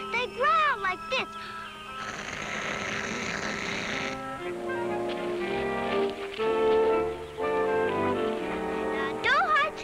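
A voice imitates a tiger growl in a few rough, rumbling bursts, close and fairly loud, amid talk and other vocal noises.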